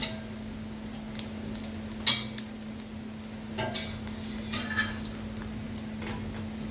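Salt and chili being stirred into egg masala Maggi in a pan, heard as faint, sparse scrapes and light metallic taps over a quiet steady hum.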